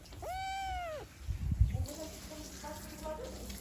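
A cat meows once with a long, clear rising-and-falling cry in a rural village home, followed by soft thumps and faint voices talking quietly in the background.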